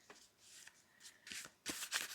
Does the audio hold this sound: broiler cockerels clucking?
no